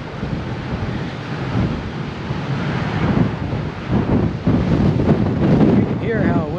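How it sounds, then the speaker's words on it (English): Strong wind sweeps across the fishing pier at Ocean City, New Jersey, at high tide, roaring and buffeting the microphone in loud gusts with waves underneath, while a voice speaks faintly through it. "You can hear how windy it is."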